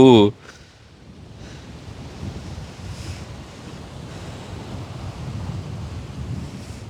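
Seawater surges over a broken shore bank in Jaffna during flooding, a steady roaring wash of waves mixed with heavy wind buffeting the microphone throughout, after a brief louder sound at the very start.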